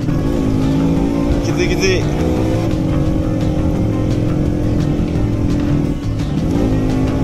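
A Vespa PX scooter of about 8 horsepower labours loudly and steadily up a very steep, slightly wet mountain road, its engine droning at high strain close by while the rider speaks over it.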